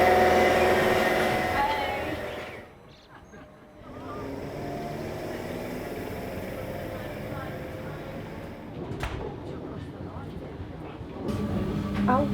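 A train sits and moves at a small one-platform railway station on the line out of Fenchurch Street, a low steady rumble with passing mechanical clatter, while people talk nearby.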